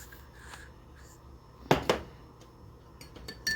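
Tea being added to a homemade herbal blend in a kitchen: two quick clinks of a utensil against a pot or dish in the middle, then a few light taps near the end, with quiet room noise between.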